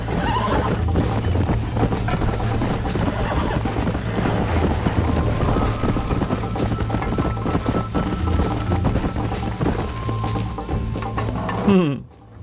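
A horse gallops with rapid hoofbeats and neighs amid a dense, busy game soundtrack in Red Dead Redemption, loud and continuous before cutting off abruptly at the end.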